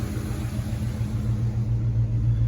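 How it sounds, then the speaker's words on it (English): A Buick-powered Chevrolet C20 Suburban with a Quadrajet carburetor idles warm at around 750 to 800 RPM, a steady, close, low rumble that holds even throughout with no revving and no talking. "she's idling about 750, 800 RPM"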